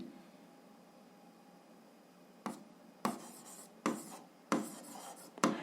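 A pen scratches out an algebra exercise on paper: faint quiet hiss at first, then five short, sharp scratching strokes in a loose rhythm, close and alone.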